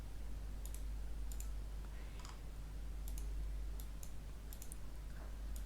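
Computer mouse clicks, several short, sharp and faint, come in scattered pairs over a steady low hum in a quiet room.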